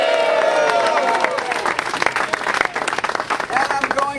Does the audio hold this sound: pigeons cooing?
no